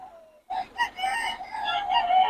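Chickens on a farm in the rain, a rooster crowing with clucking fowl around it, loud and close after a brief quiet start, with repeated bursts of calls.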